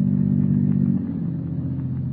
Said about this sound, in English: The unearthly silence is broken only by the purr of a motor car.